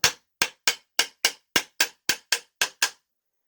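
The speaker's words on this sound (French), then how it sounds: "Marteau pour taper dessus." Eleven sharp, evenly spaced hammer taps ring out on the magneto flywheel of a Peugeot 103 moped as the crankshaft is set in the ignition sensor. The strikes are close, loud and bright, each decaying quickly, with no voices.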